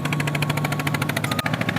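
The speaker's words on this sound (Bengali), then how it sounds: "বন্ধুরা দেখুন একটার পর একটা কিন্তু টলার আসতেই আছে" A passing river trawler's diesel engine chugs in a fast, regular thumping rhythm. It sounds close and fairly loud, continuous across the moment, with no speech.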